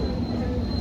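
Steady high-pitched whistle from a London Underground Metropolitan line S8 Stock train running between Moorgate and Wembley Park, a thin constant tone over low rumbling rail and wheel noise inside the carriage.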